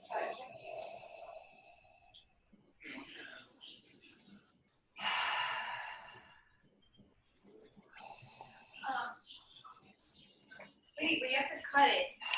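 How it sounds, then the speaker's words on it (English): Several people taking three deep breaths, audible as separate drawn-in and released breaths with quiet gaps between them, close and fairly soft, with faint whispery and snorting breath noises. "take 3 deep breaths"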